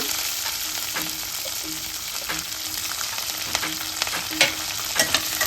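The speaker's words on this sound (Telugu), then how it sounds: "ఇవన్నీ మంచిగా నూనెలో మనం వేగనిచ్చుకోవాలి నూనెలో ఉడికిపోవాలి" Green chillies, curry leaves and onions fry in oil with a continuous bright sizzle, close and steady, punctuated by occasional clicks and scrapes of stirring.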